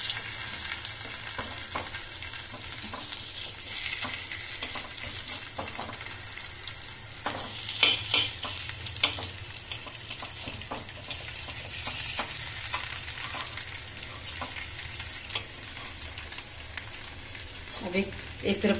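Suji appe of semolina fry in an appe pan, a continuous close sizzle with scattered clicks and scrapes as pieces are turned, moderately loud and steady throughout.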